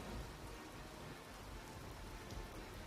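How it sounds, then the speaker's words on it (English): Steady rain in the game Empyrion Galactic Survival pours down as a dense, even hiss of drops with no voices, continuous and fairly close throughout. "Raining."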